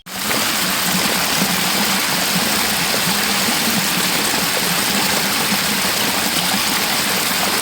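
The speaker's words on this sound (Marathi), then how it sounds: "एक तऱ्हाचा वॉटरफॉल म्हणलं तरी झालं मिनी वॉटरफॉल" Small roadside waterfall in Konkan, a steady, dense rush of falling water that stays loud and unbroken throughout, with no voices.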